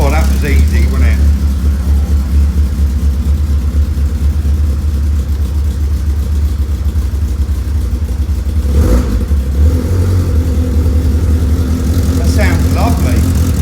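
A Caterham 7 engine, rebuilt from salvage, fires and settles into a loud, steady run with a deep rumble throughout, briefly rising around the middle and again near the end, while people talk over it.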